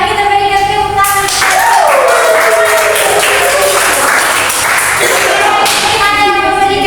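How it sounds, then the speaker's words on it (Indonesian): A classroom gives a round of applause during a math lesson, dense continuous clapping filling the room for several seconds, with voices speaking over it. "Oke, mari kita berikan tepuk tangan."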